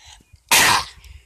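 One short, forceful fake cough bursts out close to the microphone, loud against a quiet background.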